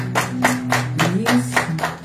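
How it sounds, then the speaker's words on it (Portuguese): Scattered, uneven hand claps from a small group at a children's live tribute gathering, a handful of distinct slaps with a low hum and background murmur underneath. "Uma salva de palmas para o José Eduardo"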